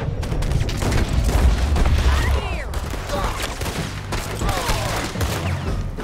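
Gunfire in the Red Dead Redemption 2 video game, a dense run of rapid shots and booms filling the first few seconds, then sparser shots with a voice talking over the action.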